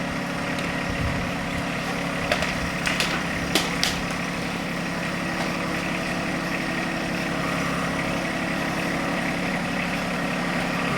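A John Deere 1025R compact tractor with a loader backhoe runs at a steady idle, a constant mid-level engine drone with a few faint knocks and clicks on top. No one speaks.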